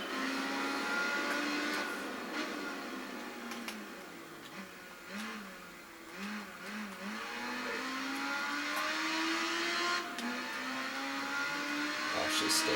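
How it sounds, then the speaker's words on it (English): Yamaha XJR1300 motorcycle lapping Motegi in the Tourist Trophy video game, engine note rising and falling through gear changes and a hairpin, with faint tire noise and no talk. "Back in the XJR 1300, and we're riding in Motegi."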